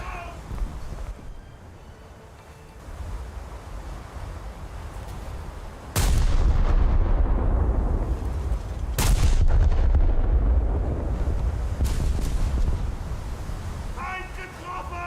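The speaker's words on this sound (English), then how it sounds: "And there goes a detonation." A torpedo detonation on a battleship in a naval combat game, a sudden heavy boom that leaves a loud, sustained rumble, with further sharp blasts and voices in the background.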